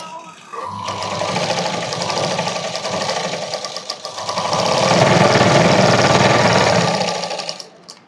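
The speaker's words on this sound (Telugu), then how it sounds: "ఇంకొక స్టిచ్ అనేది వేసుకుంటున్నాను నేను" A sewing machine runs continuously as it stitches a baby frock, a fast, even mechanical whir that swells louder near the end before stopping abruptly.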